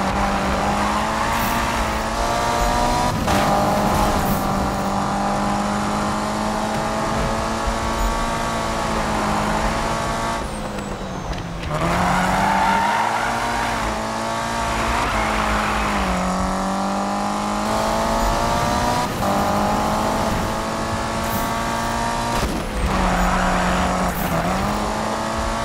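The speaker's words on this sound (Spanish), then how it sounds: "Pues va bastante bien este auto en el derrape" A turbocharged car drifts in Need for Speed (2015), its engine droning and revving up and down steadily with turbo whine and tire noise, loud and continuous in the game mix.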